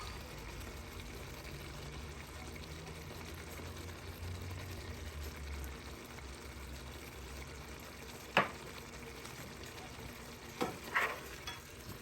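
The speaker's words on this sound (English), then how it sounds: "Mix very well again, then cover it up to Let it simmer" Stirring and mixing of a seasoned concoction rice sauce with smoked fish in a pot: a steady low sizzle and simmer with scraping spoon strokes, including a couple of sharper clanks near the end.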